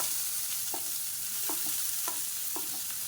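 Finely chopped large onions sizzle in a frying pan, a steady broadband hiss broken by a few soft scraping stirs spaced roughly half a second apart, close and moderately loud with no voices.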